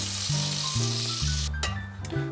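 Meat searing in a pot for a Mexican goulash gives a steady, loud broadband sizzle that runs throughout, with a tonal hum beneath and a few brief clinks near the end.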